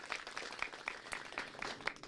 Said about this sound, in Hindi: एक बार जोरदार से तालियां भाई अपने आप के लिए